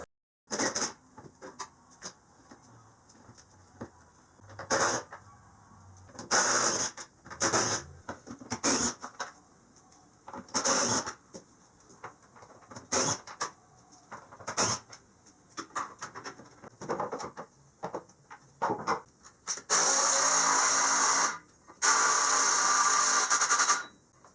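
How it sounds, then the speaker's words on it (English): Work on the clutch of a Can-Am Maverick X3 side-by-side, pulling it off with a clutch toolkit: intermittent close metallic clanks and tool rattles, ending in two loud, sustained mechanical bursts. "let's get started by pulling that clutch off and taking it apart."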